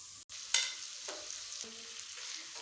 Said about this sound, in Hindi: 1 मिनट के लिए अदरक और लहसुन पेस्ट को भून लेते हैं।